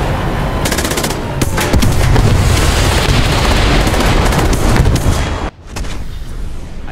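A tank battle in a video game with cannon fire and explosions: a dense, loud, continuous barrage of rapid gunfire and blasts that cuts out abruptly for a moment near the end before resuming.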